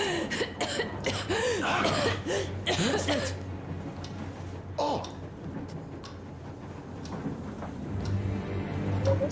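A character in Metro Exodus coughs in rough, harsh bursts early on, mixed with ticking and background ambience, followed by quieter stretches.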